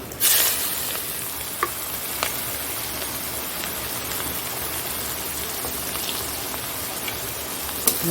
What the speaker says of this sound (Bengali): একটু জিরে দিয়ে দিলাম এটায় আর একটু পেঁয়াজ দিয়ে দিচ্ছি